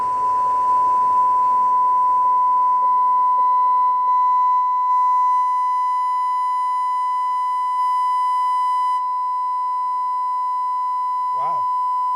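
A test tone plays through a Sound Digital EVOX 2 3000.1 mini amplifier and a subwoofer: a loud, steady, pure whine held for about nine seconds, then it cuts off, leaving a brief voice.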